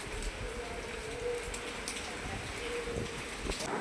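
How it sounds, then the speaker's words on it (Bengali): Rain and wind sound just outside an open door, a steady broadband hiss of falling water, with a voice speaking nearby. "আর বাইরে তো বৃষ্টি হচ্ছে, হাওয়া হচ্ছে।"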